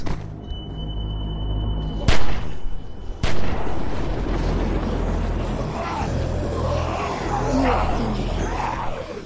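Gunfire in The Walking Dead video game: two sharp, loud shots a second apart, then a steady rumbling game ambience with scattered crackling and no voices.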